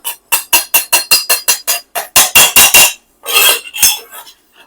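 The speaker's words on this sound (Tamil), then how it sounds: "இப்ப மிக்ஸி ஜார்ல போட்டு நல்லா அரைச்சு எடுத்துக்கலாம்" A mixer grinder jar pulses cooled roasted ingredients into an oily paste, giving a loud run of short, rapid whirring bursts separated by brief gaps, with no talking.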